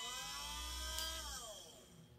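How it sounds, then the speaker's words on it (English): A steady motor whine with layered tones from the spindle motor of a Vevor 3018 CNC kit holds, then glides downward in pitch as it spins down, faint and mechanical. "A spin, I guess, to turn on the drill."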